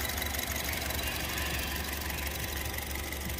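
A 2016 Honda HR-V E automatic with its engine idling, a steady smooth hum with faint ticking, continuous and close, with no voices.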